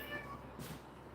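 A pet cat gives a single short, faint meow in a quiet indoor room, heard alone without talk.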